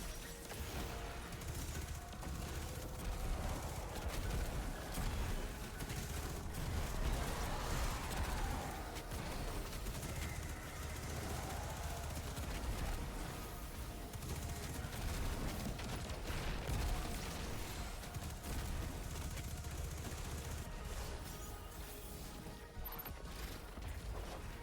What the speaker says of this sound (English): A lot of explosions with this build.